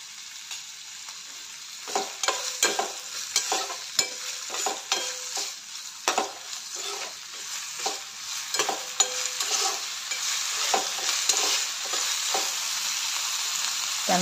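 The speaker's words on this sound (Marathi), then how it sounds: "कांदा घालून चांगलं परतून घ्यायचं आहे" Onion sautéing in a pan with salt added, frying steadily while a spoon or spatula scrapes and stirs in repeated irregular strokes, close and moderately loud, with no talking.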